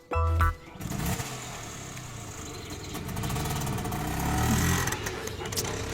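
A motor vehicle starts with a short loud cranking burst, then settles into a steady mid-pitched engine idle that rises slightly later, heard in a comedy film scene.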